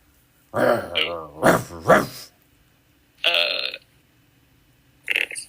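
A game master at a Pathfinder tabletop session imitates a loud, angry dog's growl with his voice in three rough, throaty bursts, followed by a pause and two shorter guttural sounds.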